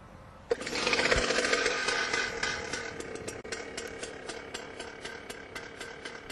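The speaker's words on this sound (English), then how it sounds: "When the engine kicks over, open up the choke and let the engine idle for a minute." A rammer's small engine catches and settles into a steady, fast rattling idle that continues evenly and fairly loud.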